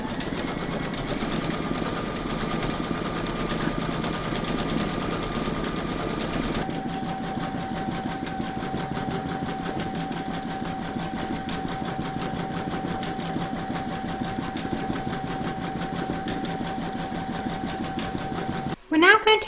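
An embroidery machine stitches a woman's silhouette and satin stitch border on an in-the-hoop baby scan photo frame, a continuous rapid close hum with a steady pitch that shifts partway, ending with a brief clatter.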